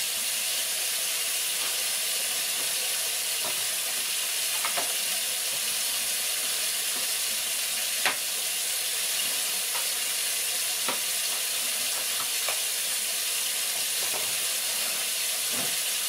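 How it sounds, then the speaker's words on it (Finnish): A coffee machine brewing coffee gives a steady, loud hiss of steam with faint bubbling and a few soft clicks throughout, with no voices. "Kahvia keitetään kovaa vauhtia."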